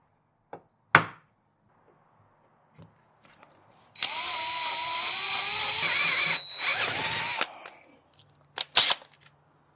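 A power drill whines steadily for about three seconds, its pitch shifting as it bites into the round metal fork tube of a 1991 Kawasaki KDX200, framed by sharp clanks and punch taps before and after.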